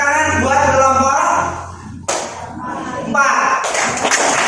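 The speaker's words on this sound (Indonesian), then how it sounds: "Tepuk tangan buat kelompok" Children in a primary-school classroom clap for a group in short rhythmic bursts, with a teacher talking over and between the applause.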